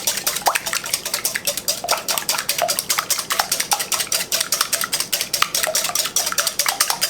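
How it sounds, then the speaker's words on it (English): Eggs whisked briskly in a bowl for a coconut pie, a steady fast rhythm of metal wires clinking and scraping against the bowl sides, close and continuous with no talking. "I'm going to whisk these eggs"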